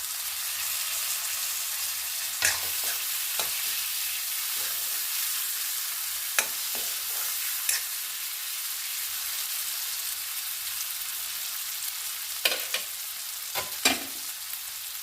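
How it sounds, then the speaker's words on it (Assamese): Tomatoes, onions and potatoes with turmeric sizzle steadily in a pan. A spoon stirs them now and then, giving occasional scrapes and clicks over a continuous frying hiss. It is heard close, and no one talks. "বিলাহীখিনি গলি যোৱালৈকে ভাজি থাকিম।"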